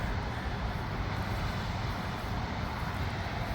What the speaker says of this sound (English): That'd be cool to go over there and check out that jet engine